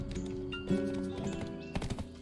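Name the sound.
horse hooves clip-clopping in Black Desert video game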